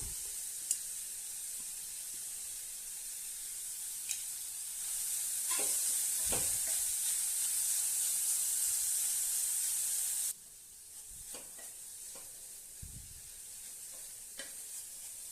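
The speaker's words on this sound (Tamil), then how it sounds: "இந்த கேரட்டை இதில் போட்டு அப்படியே நல்லா அந்த நெய்யிலேயே கொஞ்சம் வறுத்து எடுத்துடலாம்." Carrots frying in ghee in a pan for carrot halwa, a steady bright sizzle with scraping stirs and occasional utensil knocks, loud and close, then quieter after the heat settles.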